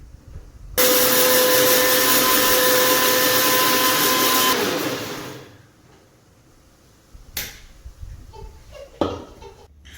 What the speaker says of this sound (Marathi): चला हे मिक्सरला ग्राइंड करू